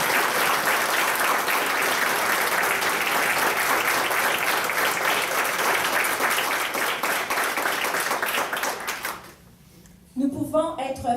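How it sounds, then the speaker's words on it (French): Warm applause from a political rally audience fills the room for about nine seconds, dense and loud, then cuts off abruptly before a voice begins speaking. "En signe de notre reconnaissance, applaudissons-le chaleureusement."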